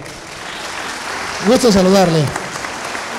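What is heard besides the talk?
audience applause for a guest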